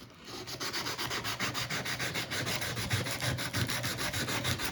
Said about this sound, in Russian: Теперь можно переходить на наждачку 120-ю.